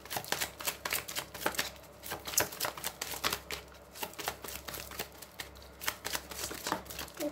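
Tarot cards shuffled by hand at close range, a steady run of crisp riffling snaps and soft slaps with no speech over them.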